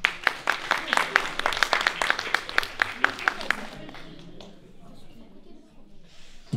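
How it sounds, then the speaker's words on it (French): Audience at a local song performance clapping, a burst of close, dense applause that fades out after a few seconds into quiet room noise. "On peut l'applaudir, hein."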